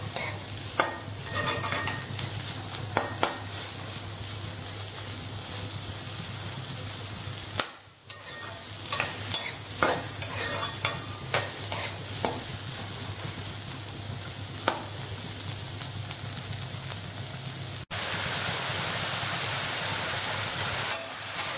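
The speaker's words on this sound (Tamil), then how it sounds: "இது சும்மா ஜஸ்ட் ஒரு 2-3 மினிட்ஸ் இதை வதக்கினா போதும்." Onions sauté in a pan for paneer butter masala, a continuous sizzle broken by scraping stirs, with a brief quieter dip partway and a louder steady hiss near the end, with no talking.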